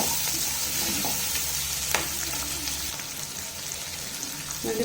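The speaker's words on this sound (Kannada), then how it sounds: "ಇದನ್ನು ಒಂದ್ಸಲ ಚೆನ್ನಾಗಿ ಹುರ್ಕೊಳ್ಳಿ." Cinnamon and cloves sizzling in hot oil in a pan, a steady close crackle with occasional stirring scrapes and a sharp clink partway through, no voices.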